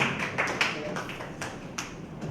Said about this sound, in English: Please a round of applause for him as he takes his seat